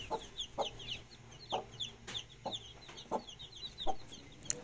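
Newly hatched chicks peep in rapid high chirps while a hen clucks softly at regular intervals, all fairly faint and close with no talking.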